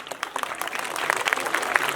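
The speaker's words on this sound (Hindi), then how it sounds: "इतने सुंदर ताली बजाओ" An audience at a village devotional stage program claps steadily in dense, continuous applause, a close crowd of hands filling the whole moment.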